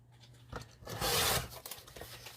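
Paper or card for a handmade recipe book is cut or torn in a short, rough, scratchy burst, loud and close, with a few softer rubbing sounds before and after.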